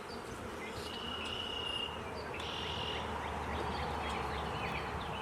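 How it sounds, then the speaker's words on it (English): Insects buzz in a dense, steady hum, with faint higher whines drifting in and out over a low background drone. "we're going to put some bees in there"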